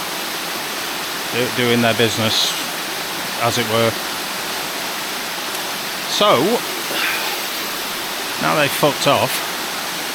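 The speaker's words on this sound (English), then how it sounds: "I'm now on this side facing the waterfall itself" A mountain waterfall at Middle Black Clough gives a steady broadband rush throughout, with people talking intermittently over it.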